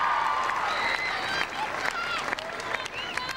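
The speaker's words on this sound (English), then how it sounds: "Give yourselves a clap for that." A large outdoor crowd applauds at the 1999 Davis Cup parade in Melbourne's city centre, with steady clapping and scattered cheers and voices mixed in throughout, slowly thinning toward the end.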